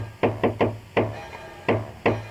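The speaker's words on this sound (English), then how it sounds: "Knock on the door using the secret knock." A secret knock on a door in the Jazzpunk video game: six sharp wooden raps in an uneven pattern, three quick, one after a pause, then two more spaced apart, close and clear with no talking.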